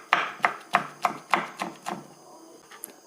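A knife chops green chillies finely on a board, about eight crisp, evenly spaced strokes that slow and fade toward the end, close and fairly loud with no talking.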